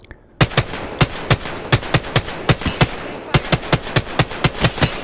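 Rapid bursts of automatic gunfire in the video game Apex Legends, a steady run of sharp, loud, evenly spaced shots with one short pause midway, with almost no talk.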